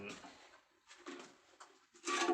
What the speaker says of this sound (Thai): มีเสียงนกกระบอการ้องด้วย